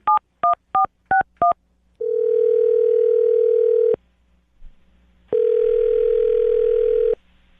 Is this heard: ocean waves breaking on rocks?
no